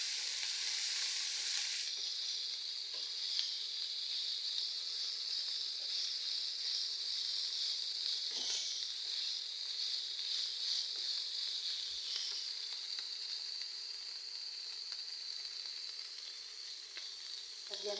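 Shredded chicken fries in a hot pan with a steady, bright sizzle that holds for the whole stretch, softening slightly toward the end, with occasional faint stirring knocks.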